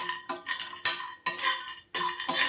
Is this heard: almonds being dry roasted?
yes